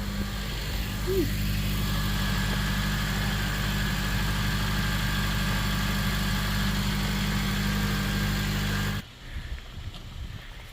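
A Honda Civic engine idles steadily inside a garage, a loud continuous low drone with a constant hum, cutting off abruptly near the end to leave quieter gusty rumble.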